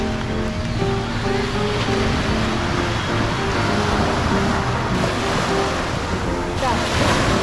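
Sea waves wash steadily onto a long beach beside a pine grove at Samae San, Thailand. The surf is continuous and fairly loud, with wind buffeting the microphone and a faint tonal hum underneath.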